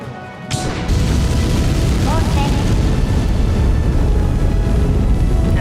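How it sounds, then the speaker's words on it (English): A rocket launches in Kerbal Space Program 2, starting with a sudden blast and then a loud, steady engine roar that fills the rest of the clip with no letup. "Now that's one rocket launch."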